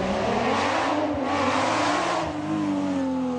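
A Porsche rally car accelerating during the Rallye du Touquet, a loud, close engine roar climbing in pitch through the gears, with a brief lift between pulls.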